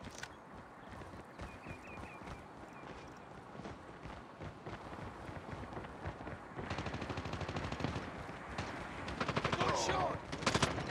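Gunfire in Call of Duty Mobile crackles as rapid automatic bursts, dense and fairly loud, intensifying toward the end, with game voices and battle noise beneath.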